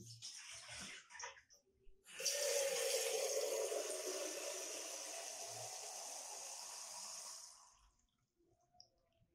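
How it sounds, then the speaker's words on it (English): Water runs steadily for several seconds to be heated for drip coffee, a close, even rushing pour that starts abruptly after a few soft clunks and then trails off at the end. "So now I'm gonna be making some hot water for the coffee."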